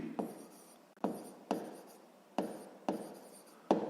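A pen scratches across paper while solving a sixth-grade math exercise, six short writing strokes in an irregular rhythm, close and quiet with no talking.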